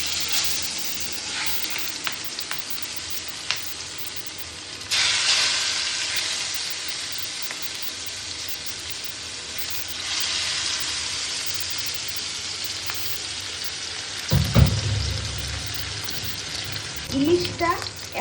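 Hilsa fish frying in cold-pressed mustard oil, a continuous close sizzle that swells in loudness in places, with scattered clicks and a few scraping knocks of a utensil near the end.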